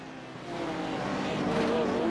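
Race cars in a sim racing GT4 and GT3 series event sweep past with a steady engine drone that swells and grows louder toward the end, with commentators talking over it.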